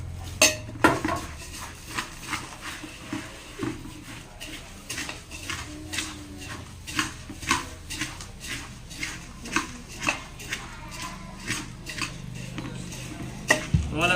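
A bowl of bhel puffed rice mixture being stirred, heard as a rapid series of rhythmic clinks and scrapes of a spoon against the bowl, close and fairly loud.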